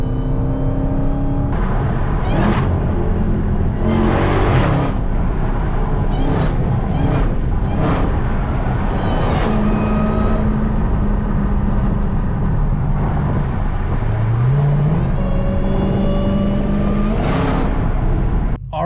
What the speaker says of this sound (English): the JLT definitely did a good job between making sure the whine is way louder than stock